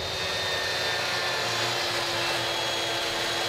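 A table saw runs at a steady loud whine while cutting splines into the corners of a cherry picture frame, a continuous dense roar with no pauses.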